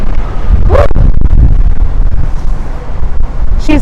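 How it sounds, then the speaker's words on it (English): Strong wind buffets the microphone in loud, rumbling gusts, with a couple of brief higher squeaky sounds cutting through. "Woo, it's windy out here."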